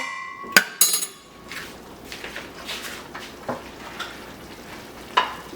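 A spoon or utensil scrapes and clinks against a pot while chopped vegetables for sancocho are stirred, with a sharp metallic knock near the start and scattered stirring sounds after.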